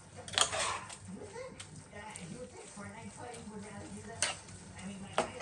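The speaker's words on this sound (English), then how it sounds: "I'm gonna stir it together. You want to make sure the stew is well distributed into the rice." Stew being stirred into rice in a cooking pot, soft scraping and stirring with a light sizzle underneath, punctuated by a few sharp utensil clinks against the pot.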